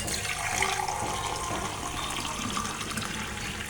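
Water poured out steadily while cooking chicken pulao, a continuous gushing, splashing stream heard up close and fairly loud for the whole stretch, with no talk over it.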